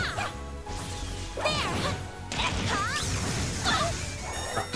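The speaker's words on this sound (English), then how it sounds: "Enemy smashing shards." A heavy crash and whack as an enemy smashes shards during a battle in Trails through Daybreak, with swooshing effects sweeping around it across a few seconds of busy game audio.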